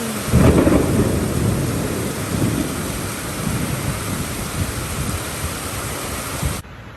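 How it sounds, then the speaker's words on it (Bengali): Heavy torrential rain with thunder, a loud thunder crash at the start rolling into a steady dense roar of pouring rain that continues to the end. "এত বৃষ্টি হচ্ছে, সাংঘাতিক মুষলধারে বৃষ্টি হচ্ছে"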